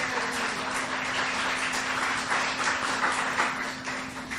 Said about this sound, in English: Let's give Eileen a thank you applause.